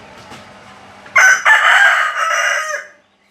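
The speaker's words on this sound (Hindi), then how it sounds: "और ये एक मुर्गी है।" A rooster crows loud and close, a single long call in several drawn-out phrases that fades at the end, with quiet background murmur before it.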